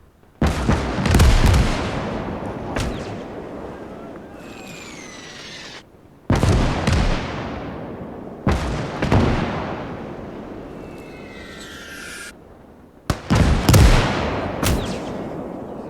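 Gunfire and artillery in the World War II strategy game Gates of Hell boom in several heavy blasts spaced a few seconds apart, each trailing into a long rumbling decay, with whistling shells streaking in between.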